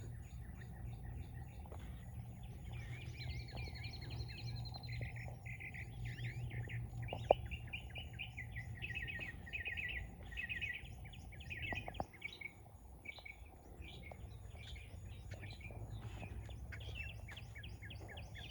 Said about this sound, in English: Hey bird, what's up?